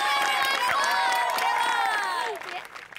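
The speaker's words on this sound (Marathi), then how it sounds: "जोरदार टाळ्या झाल्या पाहिजे" A studio audience at a Marathi comedy show bursts into loud, dense applause mixed with cheering voices, then drops sharply to a thinner, fading patter near the end.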